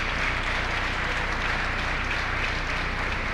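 Steady, dense applause from a high school basketball crowd in a gym at Gering, sustained and evenly loud throughout as an injured girls' player is helped off the floor.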